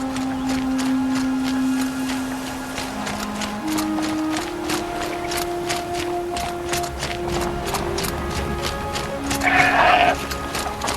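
Goats bleat in Horizon Zero Dawn, short nasal calls surfacing over steady in-game ambience with a louder bleat near the end.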